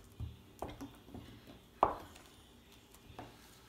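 Knife slicing pats from a whole stick of butter for smoked pork belly burnt ends: a handful of soft, separate cuts and taps on a board, quiet and unhurried, with no voices.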